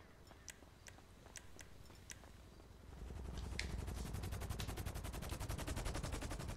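Gunfire in GTA 5 Online: a few isolated sharp shots at first, then a dense rapid burst of automatic fire that runs steadily to the end, fairly loud with no voices.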